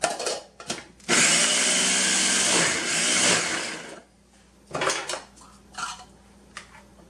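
Spoon mixing a large batch of avocado spread with cucumber chunks in a bowl, a long stretch of close, steady scraping and clinking, followed by a few shorter bursts of stirring.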